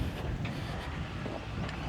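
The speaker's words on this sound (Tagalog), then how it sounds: "Mahangin dito guys." Wind gusts buffet a microphone outdoors at a rural residential lot site, a soft continuous low rumble with brief puffs, fairly quiet and without speech.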